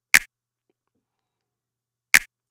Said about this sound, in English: Here's the snap.